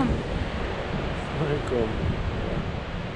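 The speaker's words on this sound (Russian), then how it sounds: "Это океан." Ocean surf at São Pedro de Moel on the Portuguese coast rolls as a steady, broad wash of breaking waves, mixed with wind buffeting the microphone, while a voice speaks briefly over it.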